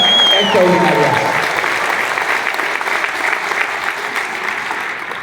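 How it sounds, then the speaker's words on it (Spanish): Audience applause for a stage show at a 2023 anniversary event, a dense clatter of clapping that fills the room and slowly thins, with a voice speaking over the opening moments. "So let's have some applause for all of you extraordinary people."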